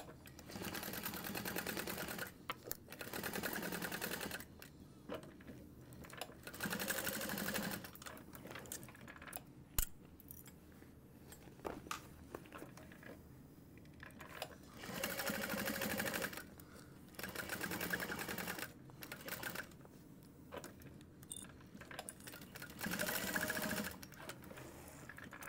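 A sewing machine stitches a half-inch seam allowance across the bottom of a garment in several close, rapid bursts of rattling stitching separated by short quiet pauses.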